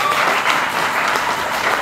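A church congregation applauds, a dense wash of clapping that stays even and fairly loud throughout a brief moment.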